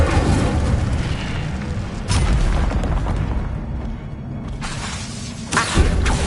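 Incendio fire spell cast in Hogwarts Legacy, a dense roaring blast of fiery whooshes that stays loud and continuous, with sharp bursts flaring up at intervals.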